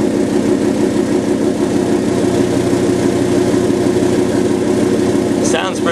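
A pickup truck's deep, steady engine idle rumbles continuously and close by, sounding like a Cummins diesel, with a brief higher-pitched whine near the end.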